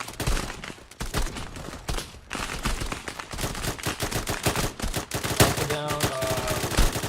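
Dense bursts of automatic and single-shot gunfire in an Arma 3 firefight, loud and close, with rapid overlapping volleys and sharp cracks that run without a break.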